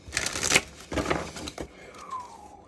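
Tarot cards are shuffled by hand during a reading, with a few quick, close riffling bursts and soft slaps, followed by a faint whistling tone as the shuffling stops.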